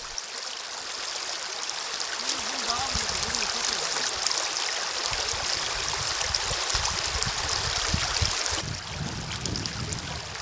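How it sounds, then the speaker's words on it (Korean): The Seomjin River rushes past a riverside village in Korea as a steady, close stream of flowing water, with a voice speaking briefly over it. "마을 앞으로 섬진강이 흘러가는 진매마을. 아침 저녁으로 물소리가 들리는 이곳"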